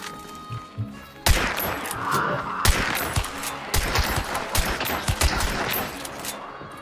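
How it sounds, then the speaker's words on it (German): Gunfire in the video game Hunt: Showdown cracks out in sharp bursts, several loud close shots and rapid volleys echoing through the scene, with no talk over them. "Schüsse, Schüsse. Ich glaube geradeaus."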